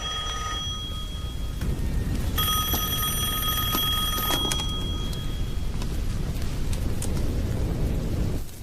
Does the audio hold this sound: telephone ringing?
yes